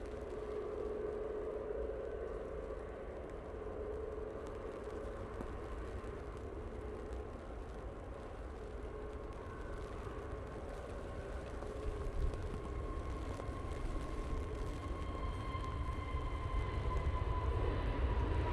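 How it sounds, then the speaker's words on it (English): An EasyJet airliner rolls down the runway for takeoff at Manchester Airport, a distant, continuous broadband engine roar that holds steady and then swells louder toward the end. "Easyjet now on the roll."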